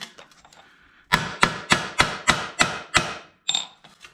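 Seven sharp, evenly spaced hammer blows from a ball peen hammer striking metal during brake and patch repair on a REO F20 truck, loud and close, with a few lighter taps before and after.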